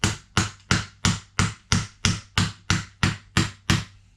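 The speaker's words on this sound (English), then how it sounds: "here's my Thor hammer." A Thor hammer taps an SKS conversion part into place, striking eleven evenly spaced sharp blows about every third of a second, close and clear with no talk.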